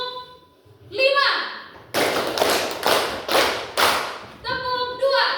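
A classroom of children performing a five-count clap pattern, five loud, evenly spaced group claps in a row, with children's chanting voices before and after.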